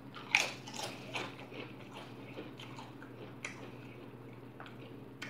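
Bites into crunchy Doritos Blaze tortilla chips, a few faint crisp crunches early on over a low steady background hum, then quieter chewing.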